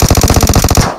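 Rapid automatic gunfire from the mobile battle-royale game PUBG Mobile, a loud, dense burst of about a dozen evenly spaced shots that stops abruptly and leaves a short tail.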